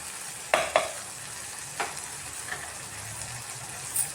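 Tomato bath mixture fries in a pan as a soft, even sizzle, with a few distinct stirring scrapes and clicks near the start and scattered lighter taps after.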